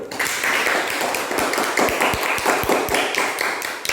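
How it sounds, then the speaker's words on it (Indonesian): A classroom of fifth-grade students applauds after a group presentation, a dense burst of many clapping hands that holds steady for several seconds without talk. "Tepuk tangan dulu."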